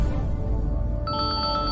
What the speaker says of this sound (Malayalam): ഫോൺ റിംഗ് ചെയ്യുന്നല്ലോ, ആരാ?